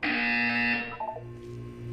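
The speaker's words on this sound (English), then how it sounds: "When you hear the buzzer, look down at the floor." A test-chamber buzzer in the Portal 2 video game sounds as one loud, harsh electronic blare. It cuts off after under a second, then a low hum and faint echoing tones follow, with no speech.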